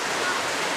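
Miyamit Falls pours in a dense, steady roar as the waterfall and the fast river current rush without pause, close and loud, with no break in the sound.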